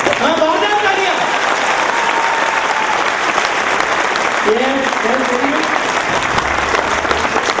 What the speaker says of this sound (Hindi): अरे तालियां कैसे बजानी चाहिए सर के लिए? हाँ, बहुत तालियां।